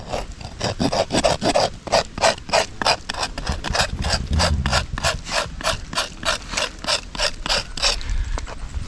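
A one-inch chisel scrapes the bark of a rubber tree in quick, regular rasping strokes, about three per second. The dry scraping is loud, close and continuous, with no talk.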